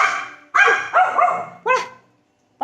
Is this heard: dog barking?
yes